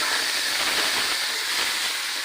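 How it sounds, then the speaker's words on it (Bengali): Taro (kochu) frying in a pan, giving a steady, loud, close hiss of sizzling oil with no break and no talking. "আর এইভাবে কচুটা ভেজে নিই।"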